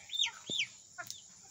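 Chickens give a few short, clucking calls close by, with brief pauses between them and nothing else in the background.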